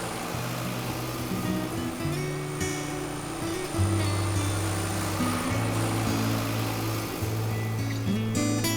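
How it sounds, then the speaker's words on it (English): A tractor engine drones steadily while dragging a V-shaped implement through mud to stir up yabbies, its low rumble shifting in pitch, with sloshing and outdoor noise around it. "that tractor drags a V-shaped implement through the mud to stir up the yabbies"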